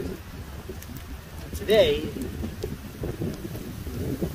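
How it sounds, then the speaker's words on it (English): Heavy rain falls outdoors during a walk, a steady broadband hiss mixed with wind buffeting the microphone, while someone talks over it. "Oh! So much rain!"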